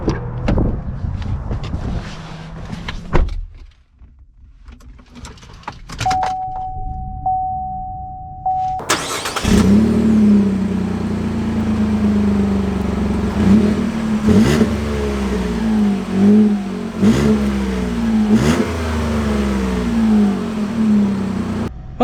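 A leveled 2021 Chevy Colorado ZR2 pickup begins with a few clunks and a brief chime, then pulls away into a loud, steady engine drone with road noise and rising and falling revs.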